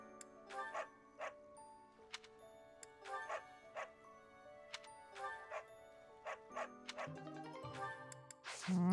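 A dog barks in a Fire Emblem Three Houses game scene, a series of short yips spread across the clip over looping game music, with a louder burst at the end.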